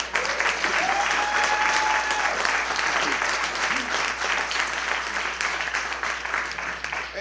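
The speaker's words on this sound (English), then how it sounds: "If we could all have a round of applause for all of them." An audience at a chamber of commerce annual dinner gives a loud, sustained round of applause. Many hands clap densely and evenly for several seconds, with a faint voice briefly heard beneath it.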